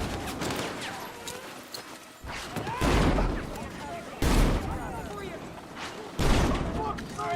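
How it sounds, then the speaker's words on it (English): A grenade explosion in the Call of Duty video game, with several heavy booming bursts spread out amid ongoing gunfire and talk over the top. "Oh, that's a grenade."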